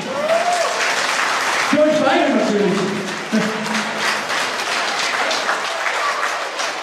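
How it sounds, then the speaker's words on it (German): Audience clapping at an event in Westfalenstadion Dortmund, a steady wash of hands running under a presenter's voice that talks over it and rises and falls through the stretch. "Ein Applaus bitte. Für euch beide."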